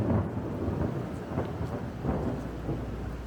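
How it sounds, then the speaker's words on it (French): Distant thunder rolls through a canyon in Albania as light rain begins to fall, a continuous low rumble lasting the whole stretch with no voices. "le tonnerre gronde au loin"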